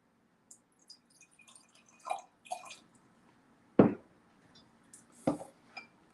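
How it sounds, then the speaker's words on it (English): Reverse osmosis water poured into a small container, heard as a few quiet, separate splashes and drips spread over several seconds against near silence. "let me pour some of this RO in here"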